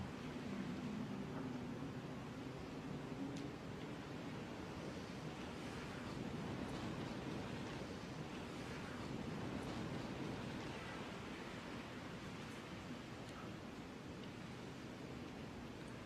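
Wind blowing outdoors as a soft, even, faint rushing wash that holds steady throughout with no distinct gusts, heard alone.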